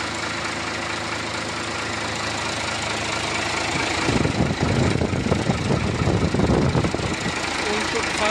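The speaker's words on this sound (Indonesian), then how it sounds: "Mesin sudah kita hidupkan, nih" A Hino J08E diesel truck engine idles with a steady low rumble, joined midway by a rougher, louder knocking chatter that carries on to the end.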